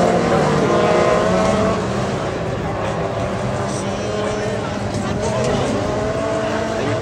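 Rally race car in the 2-litre class at a Plouay round, engine roaring loudly and sustained as it passes close by, with a commentator talking over it.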